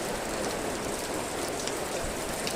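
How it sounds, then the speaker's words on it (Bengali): Heavy rain pours steadily over a garden of dragon fruit plants, a dense, continuous hiss of drops on leaves and surfaces filling the whole stretch without pause. "এই যে বৃষ্টি পড়ছে।"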